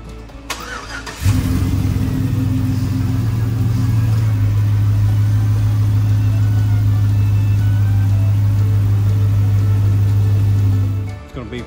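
The engine of a 4x4 short bus starts with a quick crank and then idles steadily with a low, even drone for about ten seconds, close by, before cutting off at the end.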